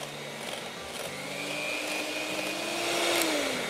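An electric mixer whirs steadily while beating cake batter for a jelly roll with powdered sugar, a continuous motor hum rising slightly in pitch toward the end, close and moderately loud with no talking.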